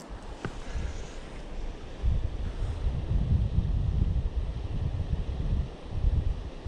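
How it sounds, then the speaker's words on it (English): Steady wind rumbles and gusts against the microphone, swelling louder midway with a low, blustery roar and no voices. "Ooh, it's a windy day."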